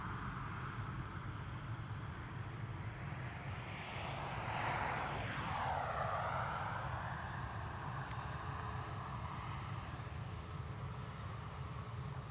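British Airways Embraer jet at Dublin Airport, a steady broadband engine roar at distance that swells and shifts in pitch midway as the aircraft passes, with no talk over it.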